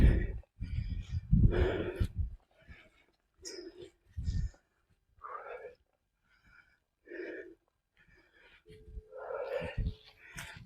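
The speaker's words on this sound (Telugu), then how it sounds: "బాగా ఆయాసం వస్తుంది." A person climbing a steep rocky hill breathes heavily, with close, ragged gasps and wheezy exhales in uneven bursts separated by short pauses.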